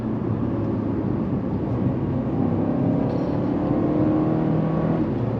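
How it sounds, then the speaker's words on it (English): A Mercedes-Benz CLA 250 4MATIC's 4-cylinder engine hums and rises in pitch as the car accelerates uphill, heard steadily from inside over road noise. "obviously a little slight noise from the engine because it is a 4-cylinder after all"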